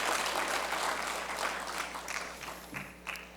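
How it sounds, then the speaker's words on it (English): Audience applause for jury members at the closing ceremony of the SEforALL Global Forum 2025, a steady wash of many hands clapping throughout, thinning slightly toward the end with a few scattered louder claps. "So let's give them a great round of applause to the jury members."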